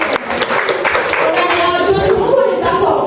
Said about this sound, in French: On applaudit, hein?